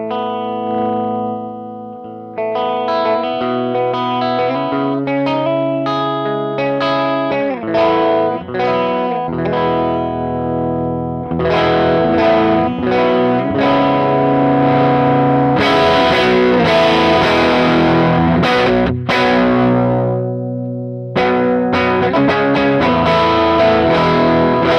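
Electric guitar played with the volume knob backed off for a clean tone, picked notes and chords ringing out with a touch of effects, loud and alone, with no talking.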